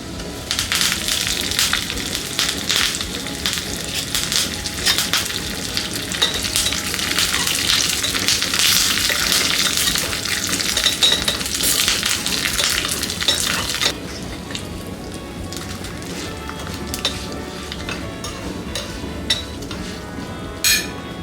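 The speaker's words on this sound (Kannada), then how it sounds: "ಈಗ ಇದಕ್ಕೆ ಒಗ್ಗರಣೆ ಹಾಕೋತಾ ಇದ್ದೀನಿ" Mustard seeds, chana dal, urad dal and curry leaves sputter and crackle steadily in hot oil for a tempering, loud and close, with occasional clinks of a spoon against the pan and no talking.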